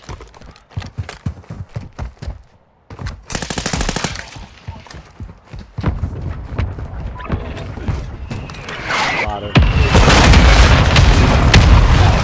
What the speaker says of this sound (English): I got fucking hit with the bouncing Betty.